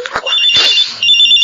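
A cellphone ringtone rings loudly and steadily for the whole moment, with no talking over it.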